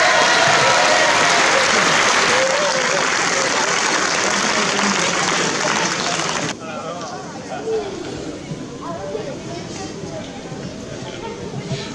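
Audience at a youth chess championship prize ceremony gives loud, sustained applause for a winning club, fading to lighter clapping and crowd murmur.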